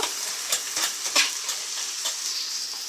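Noodles tossed into a pan already holding fried egg and onion, giving a close, steady sizzle with several quick clattering stirs over a short stretch.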